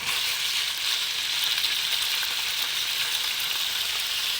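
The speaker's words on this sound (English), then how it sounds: "You can hear that sizzle, you know it's hot" Chicken pieces sizzle in hot grapeseed oil in a pan, a steady, loud, bright hiss with fine crackling that holds evenly throughout with no talking.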